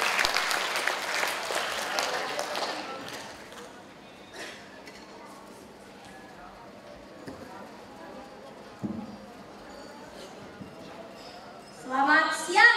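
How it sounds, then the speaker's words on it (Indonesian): A crowd of listeners applauds at a talk about processing waste. A burst of dense clapping fills the first few seconds, then dies away to a quiet room with scattered small noises and a voice near the end. "Tepuk tangan untuk Kak Nindi, silakan."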